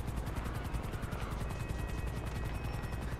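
Helicopter rotor in the game GTA 5 Online, a steady rhythmic chopping throb held at an even, moderate level for the whole stretch with no talk over it.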